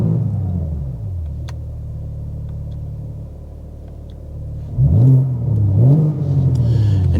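A 2026 BMW M4 Competition engine idles with a deep rumble, then revs up sharply in a different drive mode, rising in a couple of throaty bursts close by.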